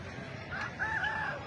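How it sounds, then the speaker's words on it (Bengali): A rooster at a busy market gives a short, fairly faint crow over a low murmur of crowd background noise. "মোরগ"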